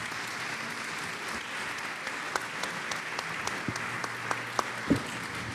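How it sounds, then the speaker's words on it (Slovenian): Steady audience applause fills a Slovenian round table event on the future of entrepreneurship as guests are welcomed, a continuous wash of clapping with a few sharper individual claps standing out near the end. "Prav tako glasen aplavz za gospoda Janeza Škrabca"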